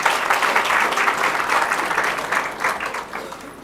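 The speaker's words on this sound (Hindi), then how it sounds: "ताली बजाओ दिव्या के ताल से" Audience applause at a Hindi-language talk, a dense steady wash of many hands clapping that holds loud and even, then thins and fades slightly toward the end.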